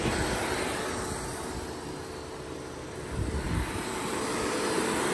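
Subaru Forester's onboard air compressor running steadily with a loud, continuous droning hum and hiss, airing down tires through a DIY four-way inflator, with a brief surge in intensity midway.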